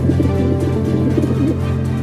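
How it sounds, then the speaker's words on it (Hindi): A pigeon cooing close by inside a house, soft repeated low coos over a steady background hum, no voices. "चिंटू के घर में से कबूतर की आवाज आ रही है"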